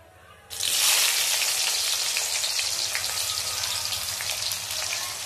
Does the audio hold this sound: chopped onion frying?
yes